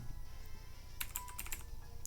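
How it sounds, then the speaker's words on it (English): A computer keyboard is tapped during an online Pokémon battle, with a brief cluster of quick, close keystrokes in the middle and one more tap at the end over a low background hum. "Oh my god, what am I typing here?"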